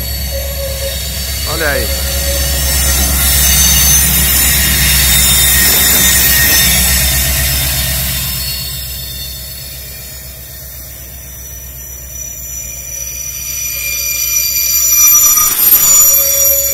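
A VLi freight train on the Serra do Mar line passes close by, a loud continuous rumble with wheels squealing and screeching along the rails, fading midway then swelling again; someone speaks briefly over it.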